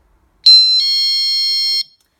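A GE dorm/apartment window alarm emits a loud, piercing electronic tone, a brief blip then a steady shrill beep lasting over a second before cutting off into silence.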